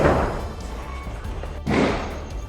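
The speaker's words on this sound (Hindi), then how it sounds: "गेट जब पेट्रोल से भीग गया तब आग के साथ बोतल को फेंककर बड़ा धमाका कराया गया।" A petrol bomb explodes at a petrol-soaked house gate: a sudden heavy, dull boom bursts out after a quieter stretch of lingering rumble, loud and close, then settles into a sustained noisy tail.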